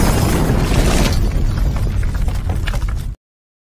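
A loud, rumbling bomb explosion in a film roars and crackles for about three seconds, heavy and close, then cuts off abruptly to silence.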